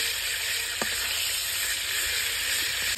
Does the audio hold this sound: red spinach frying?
yes